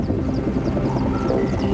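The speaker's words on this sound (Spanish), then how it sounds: "Desde el cielo, los helicópteros arrojan toneladas de un líquido pegajoso, denominado burba" Helicopters flying over the Chernobyl nuclear disaster site in 1986 give a loud, continuous low rotor and engine drone that fills the whole stretch.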